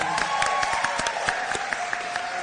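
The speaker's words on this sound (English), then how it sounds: "Give her a round of applause, please." A room of guests at an awards ceremony claps for an honoree, a loud, close burst of applause with a few sharper individual claps standing out.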